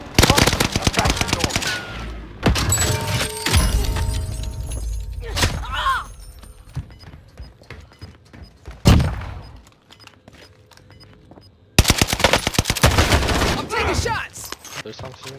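Bursts of rapid automatic gunfire from the NZ-41 in Warzone Season 4 come in loud, dense volleys separated by quieter gaps with single sharp shots, heard alongside game voice callouts.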